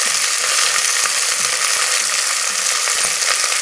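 Green peas, cashews and raisins frying in a pan for veg fried rice give a continuous bright sizzle and hiss, with a few faint stirring clicks and no talking.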